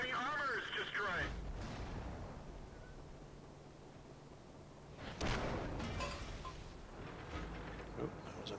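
A shell strikes a tank in World of Tanks, a PzKpfw 38H735(f) tier 2 light tank, landing as a sudden loud boom that decays into rumble, with a second heavy impact a few seconds later and game effects around it.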